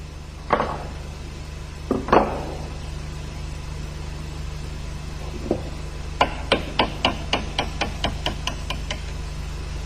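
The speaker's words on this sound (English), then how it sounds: "Unscrew the fastening nut and tap out the bolt." Metal tapping on an MZ motorcycle engine as a retaining bolt is driven out: two heavier knocks early, then a quick run of about ten sharp, evenly spaced taps near the end, with a steady low hum behind.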